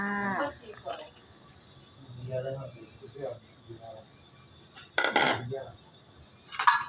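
Metallic clinks and clatter of a lid settling onto a pot of salmon tom yum soup, a couple of sharp bursts amid quieter kitchen sounds and a few bleating animal calls.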